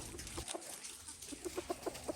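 Chickens in a tunnel give a run of soft, close clucks, with a few near the start and a quicker series toward the end over quiet background noise.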